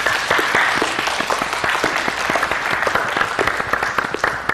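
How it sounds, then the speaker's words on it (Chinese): A crowd at a competition award ceremony gives loud, sustained applause for the champion, a thick, continuous clatter of many hands close by with no speech over it. "大家掌声。"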